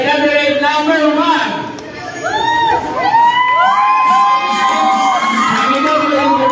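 A lively crowd at a council gift-giving event in Meycauayan cheers loudly, with overlapping whoops and high children's shouts rising and falling in waves that fill the space.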